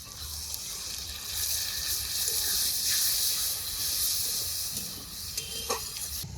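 Water poured into onion, green chilli and ginger masala frying in a pan hits the hot oil with a loud, steady hiss and bubbling sizzle that holds up close, easing slightly toward the end.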